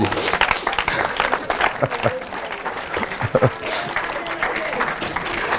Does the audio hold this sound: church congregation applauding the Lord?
yes